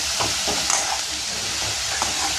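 Safflower leaf greens being stirred and fried with a ground chili paste in a hot pan, a steady close sizzle with soft scraping strokes throughout, no voices.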